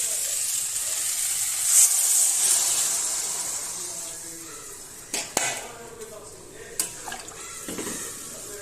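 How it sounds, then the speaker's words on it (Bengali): Water splashes into a hot pan of fried food and sets off a loud hiss of steam that slowly fades, followed by a few sharp metallic clinks of utensils against the pan. "ভাজা হয়ে গেছে, এবার আমি জল দিয়ে দিই।"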